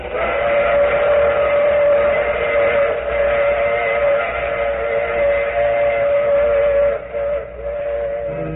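A train rumbles steadily under a long, sustained whistle tone as it pulls away, loud and continuous before easing slightly near the end.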